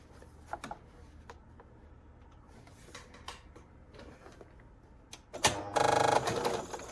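A sewing machine stitching quilt block pieces starts with a short whir and then runs steadily for about a second, preceded by faint clicks and handling sounds in a quiet room.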